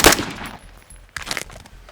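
A KS3 combat rifle firing rapidly at a shooting range, two loud close bursts of sharp gunshots separated by a short pause.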